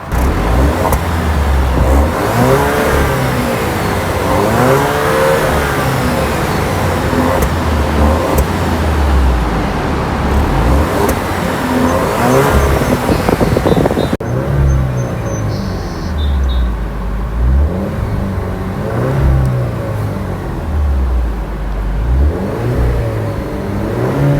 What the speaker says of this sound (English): we're gonna get a quick sound of the 2-liter turbocharged 4-cylinder engine